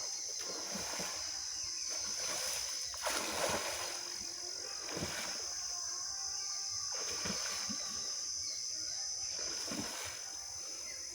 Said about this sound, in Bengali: আজকে আমাদের পুকুরে মাছ ধরা হচ্ছে